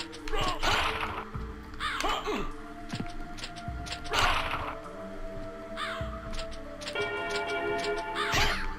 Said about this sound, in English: Oh, these crows and these birds are annoying.